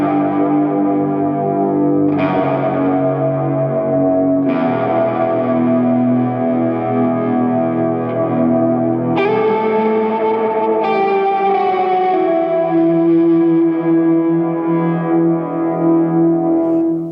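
An overdriven electric guitar played through a Walrus Audio Slö multi-texture reverb pedal rings out in sustained, distorted chords that swell into a wide, washy reverb tail. The sound is loud and continuous, changes chords every few seconds, and has no talk over it.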